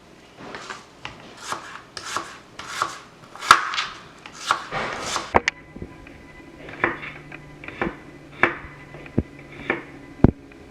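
A knife chops peppers and onions on a cutting board for a Dominican-style bistec guisado, giving a series of sharp, fairly close cutting thuds in an irregular rhythm, some quick and some spaced apart, with no talking.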